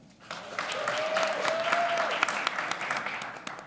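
Audience applause greets a panelist at a community housing panel event, a steady wash of clapping from a room of people that swells and holds, with a faint voice tone briefly underneath.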